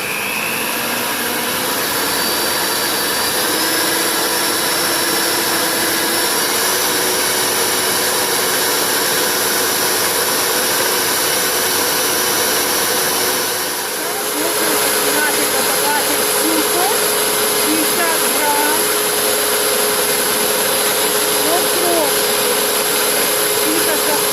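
An electric stand mixer whips six egg whites for a Kyiv cake, a loud continuous whirring motor hum that holds steady, shifts briefly midway, then carries on at a slightly changed pitch.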